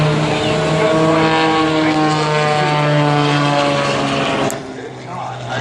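A propeller-driven aerobatic plane at a 2014 air show roars steadily and loud across the whole clip with a strong, droning engine tone, easing slightly lower near the end as it turns back.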